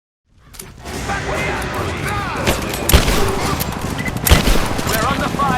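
Rapid bursts of gunfire from the video game Rise of the Tomb Raider on PS4, loud and close, with overlapping shots and sharp blasts near the middle and end, mixed with a voice in the background.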